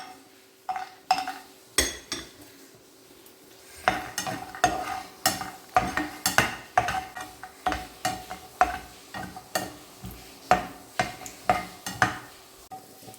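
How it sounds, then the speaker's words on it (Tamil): Whole cashews roast in a little ghee in a pan, with a steady run of sharp spoon scrapes and clinks against the metal over a soft sizzle, close and fairly loud, no voices. "முதல்ல முழு முந்திரியை அப்படியே போட்டு வறுத்து எடுத்துடலாம்."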